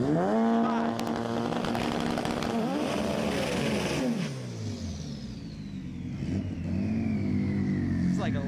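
A K-powered Integra from New Mexico and a rival drag car accelerate hard down the strip, loud engines rising in pitch through gears, then fading into the distance with a whine while an announcer talks over them.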